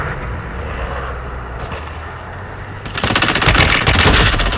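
Automatic gunfire erupts in Warzone Mobile, loud rattling bursts that start abruptly midway after a quieter stretch of ambient rumble and continue as sustained rapid fire.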